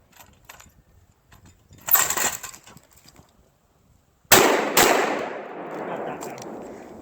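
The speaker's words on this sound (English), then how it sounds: "this is an AK-47 that's basically just got a bigger pipe here to shoot shotgun shells" Two loud, close blasts from a Lynx12 AK-pattern shotgun firing shotgun shells, fired in quick succession at a training range with a long decaying echo, following earlier fainter rattling and clatter.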